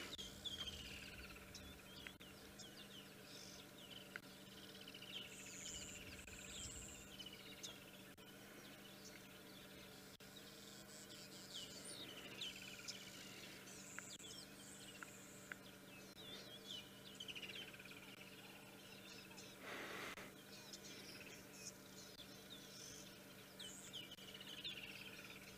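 At sunset in Sabi Sands game reserve, South Africa, scattered birds chirp and call faintly and at a distance over a low, steady background hum.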